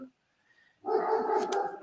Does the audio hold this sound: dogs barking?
yes